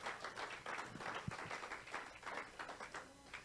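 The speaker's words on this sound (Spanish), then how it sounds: "Denle un aplauso al Señor." Congregation applauding in a church service, scattered clapping at a distance, fairly faint and uneven, with a few voices murmuring underneath.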